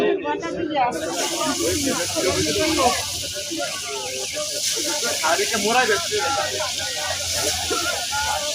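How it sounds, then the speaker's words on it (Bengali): Loud, steady hissing and sizzling of hilsa fish frying in hot oil, continuous throughout, with voices talking faintly underneath. "তো দেখুন আমাদের ইলিশ মাছ ভাজা হচ্ছে"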